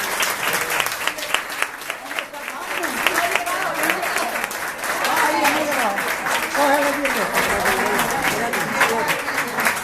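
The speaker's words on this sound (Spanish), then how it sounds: "Un aplauso para ella." An audience at a fan club diploma ceremony applauds steadily for about ten seconds, a dense and sustained wash of clapping with voices mixed in underneath.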